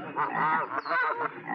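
Geese and frogs in a movie scene make a dense, overlapping chorus of honks and croaks. The calls are fairly loud and continuous, with short dips between them.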